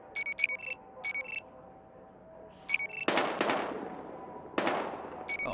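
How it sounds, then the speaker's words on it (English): Gunfire in the video game Battlefield Hardline, two bursts of sharp shots cutting in over a low ambient hum and repeated short electronic beeps. "We've got gunshots."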